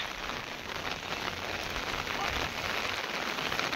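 Steady rain falls on surfaces during wet weather, a dense, even patter of drops that holds at a fairly quiet level throughout.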